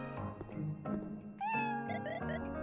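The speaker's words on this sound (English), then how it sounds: "Cat. Meow." A cat meows in the cute horror game Blackout, with several clear, close meows rising and falling in a short sequence, including one long drawn-out call, with no talking.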